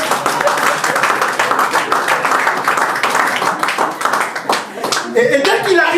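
A church congregation claps and applauds together in a dense, lively burst of hand claps that carries on for several seconds, with voices calling out beneath it and rising near the end.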